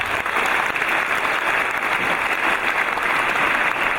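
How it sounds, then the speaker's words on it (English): An audience applauds for Mayor Rex at a public gathering, with steady, dense clapping that stays loud and even throughout, without any talking over it. "A round of applause for Mayor Rex."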